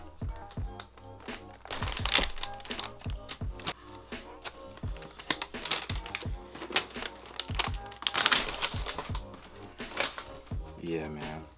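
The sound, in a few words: opening packaging of Jordan Brand sneaker gift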